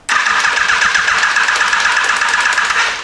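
A Yamaha FJ1200 motorcycle with a flat battery cranks its engine, a loud continuous grinding whir with a quick pulsing rhythm that sags slightly toward the end.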